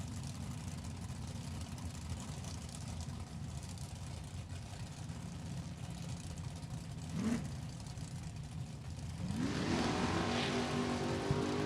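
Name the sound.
drag racing cars, first gen Camaro and 94 Camaro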